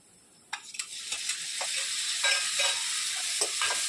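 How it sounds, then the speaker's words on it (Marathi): Chopped tomato drops into a hot pan of dal fry, setting off a sharp crackle that swells into a steady, loud sizzle with a few spatters, close by and with no talking. "एक मोठा चिरलेला टोमॅटो घालते."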